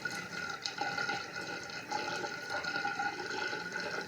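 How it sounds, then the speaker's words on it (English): Warm water pouring steadily into a measuring cup, a continuous trickling splash with a rising gurgle, close and alone. "So filling that warm water to only half a cup."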